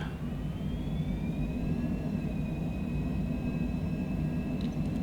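Airliner jet engines spool up to takeoff thrust in Microsoft Flight Simulator 2020, a steady broadband roar with rising whine tones, loud and continuous with no talk.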